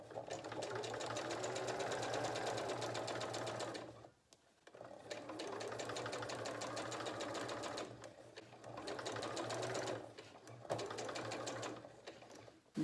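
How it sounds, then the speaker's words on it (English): A domestic sewing machine stitches a French seam in fabric, running steadily, stopping briefly, reversing and then sewing forward again, with a whirring motor and fast needle rhythm in three runs split by short pauses, close by. "I'm going to press my back key, go backwards, release it, come forwards again."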